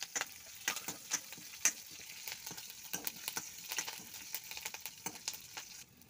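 Curry leaves sizzle in hot oil for a Marathi-style dhokla tempering, a steady crackling hiss broken by sharp spattering pops and clinks of stirring, close and moderately loud with no talk.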